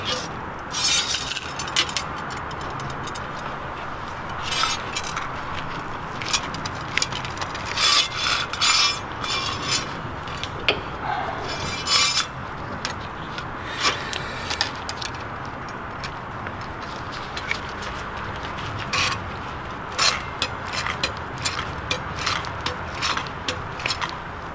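A screwdriver works a small part loose from a washer nozzle, with repeated metallic scraping, clicking and rattling in irregular bursts, close and fairly loud, no talking.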